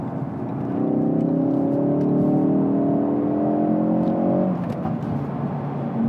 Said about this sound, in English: Spit, spit, bang, bang out the back.